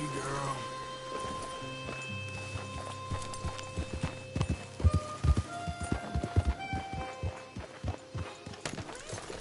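Hooves clip-clop on hard ground in an uneven walking rhythm, with a horse snorting and a low voice speaking briefly at the start, in a PS4 video game.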